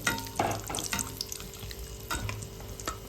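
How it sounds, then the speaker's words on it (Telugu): Cashews and raisins frying in hot oil for double ka meetha, a soft, close sizzle with light stirring scrapes throughout, faint and alone. "దోరగా అయితే వేయించుకోవాలి వీటిని, జీడిపప్పు కిస్మిస్ని"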